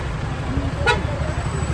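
Vehicle horn sounds once amid a roadside traffic jam on the Manali–Spiti mountain road, a short toot over a steady engine and road rumble, with voices talking nearby.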